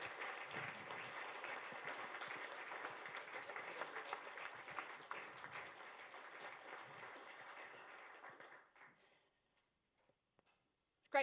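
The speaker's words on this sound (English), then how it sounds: "give her a huge round of applause because she is amazing" A crowd applauds Shelley Taylor-Smith, the marathon swimmer, with steady, dense clapping that holds for about eight seconds and then fades out. One sharp click follows near the end.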